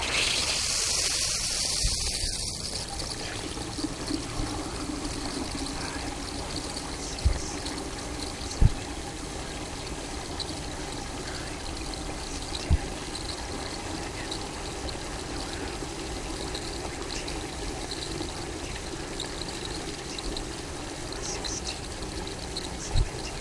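Simulated rain at about two inches per hour, a medium rain, sprays steadily over MasterShield waterproofing coated with oil, pancake syrup and honey, a constant close hiss of falling water with a few faint knocks and no talk.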